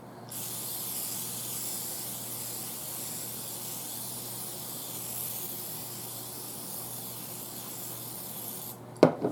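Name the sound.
Coconut oil cooking spray from an aerosol can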